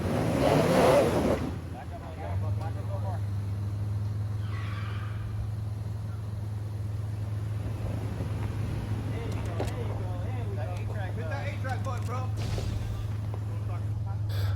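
An off-road pickup truck crawling over deep ruts on forest trails, a steady low engine drone running throughout after a loud burst at the start, with scattered knocks and rattles and people talking over it.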